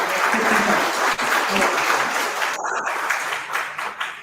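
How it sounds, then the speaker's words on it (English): A conference audience at a free and open source software event in Delhi breaks into loud, sustained applause, dense clapping filling the room for several seconds with a few brief cheers mixed in. "Huge round of applause for that."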